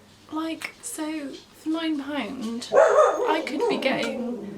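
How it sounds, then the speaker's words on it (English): A dog barks and yips several times indoors, short sharp calls mixed in with someone talking continuously over them. "sorry about the dog"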